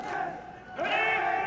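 A large crowd at a Pride FC mixed martial arts event roars and chants for a fighter, the sound swelling suddenly after a brief lull into a sustained, distant arena cheer.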